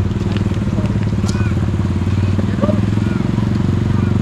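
Motorcycles rumble past on a busy road, their engines throbbing loudly and close in a steady drone, with faint voices mixed in.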